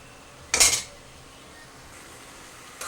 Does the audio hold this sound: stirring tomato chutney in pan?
yes